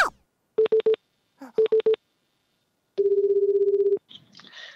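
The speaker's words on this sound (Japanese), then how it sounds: "メールに記載された連絡先の方に今日は連絡してみたいと思います" Touch-tone beeps from a phone keypad calling a suspicious contact number: two quick bursts of three tones, then a long buzzing tone and a short garbled sound at the end.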